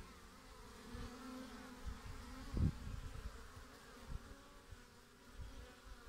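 Honey bees flying out of hives at an apiary, a faint continuous buzzing hum with a few brief louder thumps, quiet and outdoors with no talk.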